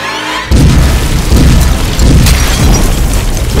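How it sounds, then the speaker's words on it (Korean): A cartoon explosion in a ship's boiler room goes off with a sudden loud boom after a brief quiet moment, then gives way to a sustained, heavy rumbling roar that stays loud to the end. "갑자기 뭔가가 폭발했어!"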